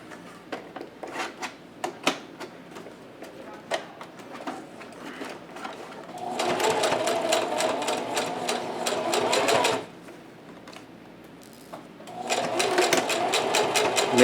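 A sewing machine stitches a pleated fabric face mask: first soft, scattered clicks and taps close by, then two sustained bursts of fast, even mechanical stitching broken by a short pause.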